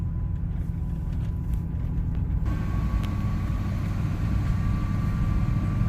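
A car drives down a dirt road near the tip of Michigan's thumb. A steady, loud low rumble of engine and tyres fills the whole stretch, with faint rattles over it.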